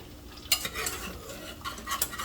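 A spoon scrapes and clinks around a pot of cheese grits in brief uneven strokes, close and moderately loud, with faint sizzling from frying catfish in the background; no talking.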